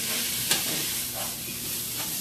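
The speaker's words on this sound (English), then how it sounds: "Now we let the meat cook a little bit" Ground meat for lasagna sizzles steadily in a hot pan, a constant frying hiss broken by a few scraping stirs of a utensil, close and alone.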